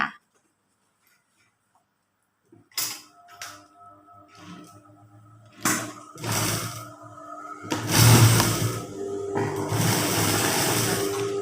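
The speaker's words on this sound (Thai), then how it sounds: "อ่าเย็บเลยค่ะ" A sewing machine stitches the waistband seam of a garment that has a center back seam. After about two seconds of silence, a close, loud motor whir builds in irregular bursts and then runs more steadily toward the end.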